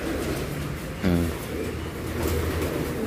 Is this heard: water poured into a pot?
no